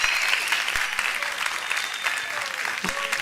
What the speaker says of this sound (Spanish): Ahí veo aplausos